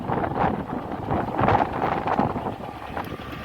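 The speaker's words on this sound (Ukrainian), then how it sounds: "Вітер." Wind gusts buffet the microphone in rough, uneven rumbles, rising and easing over a few seconds, out on an open farm field.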